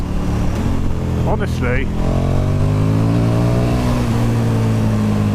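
A 2017 KTM 1290 Super Duke R naked motorcycle accelerating hard on the road, its engine pulling up through the revs with a loud rising drone while a rider briefly speaks over it.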